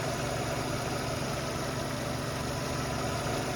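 A 2006 Renault Megane's 1.6 petrol engine idles steadily with a low, even rumble and slight vibration, continuous and fairly close, with no talking.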